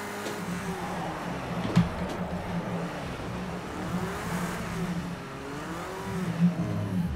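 A race car in a racing video game at Le Mans whines and wavers in pitch as it spins out, the engine tone swooping up and down at moderate loudness, with a thump partway through and no voices.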